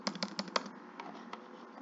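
Quiet typing on a computer keyboard, a quick burst of four or five clicky keystrokes followed by a few softer, scattered taps.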